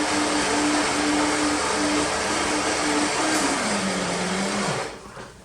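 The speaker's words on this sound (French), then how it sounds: "Elle est bruyante la cafetière" A noisy coffee machine running in a kitchen, a loud steady whirring drone with a falling motor tone that winds down and stops near the end, with no talk over it.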